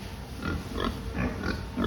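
Fattening pigs on a farm grunt and oink softly in a pen, several short low grunts scattered over a quiet background hum, fairly faint and without speech.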